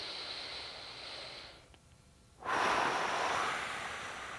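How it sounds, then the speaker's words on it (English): One person breathes in and out deeply during a diaphragm stabilization exercise: a long breathy exhale, a brief pause, then a loud, close rushing inhale. "I'm going to breathe."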